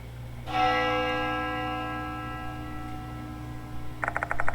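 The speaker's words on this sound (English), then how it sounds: "The sound of a bell echoes in my ears." A single bell strike in the video game Spirit Hunter: Death Mark II rings out clearly and decays with a long resonant hum, followed by a quick rhythmic ticking near the end.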